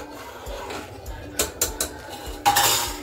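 A metal spoon scrapes and clinks against a pot of chicken pulao in a few sharp bursts, with quieter stirring between them and no speech.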